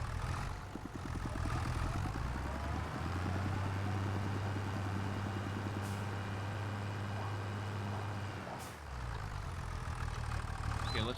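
Tractor in Farming Simulator 25 idling steadily at low volume, a constant low drone with a faint mechanical hum running throughout.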